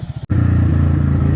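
A Honda CX250R motorcycle engine idles loud and close with an uneven, stuttering rumble, a brief sharp dropout near the start, then a rough, pulsing misfiring throb that keeps going.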